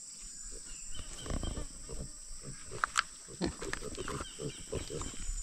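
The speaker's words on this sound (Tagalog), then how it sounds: "Ayan, ang ating alagang baboy." A farm pig grunts in short irregular bursts at close range, with a couple of sharper squeal-like spikes midway, over a steady high insect-like hum and faint background voices.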